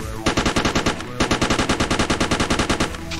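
Rapid automatic gunfire in the video game Die Again, a loud close burst of evenly spaced shots, a brief pause, then a longer sustained volley.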